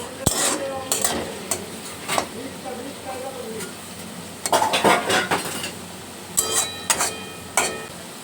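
A spatula stirs capsicum, carrot and cashew nuts frying in a pan, with scraping and tapping strokes over a low sizzle. Clusters of close metallic clinks come and go, separated by quieter stretches where the frying hiss carries on.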